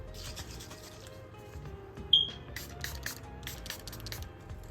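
Several quick pumps of a makeup setting spray bottle hiss close by in short bursts, with soft rustling and handling sounds between them.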